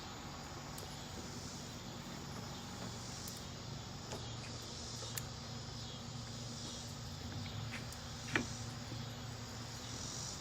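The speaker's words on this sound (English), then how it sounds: "Now we got the cicadas going." Cicadas drone steadily at night in a continuous high buzzing chorus, moderately far and fairly faint, with a low hum underneath and a few brief clicks, no speech.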